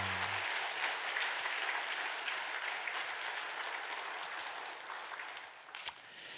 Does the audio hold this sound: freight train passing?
no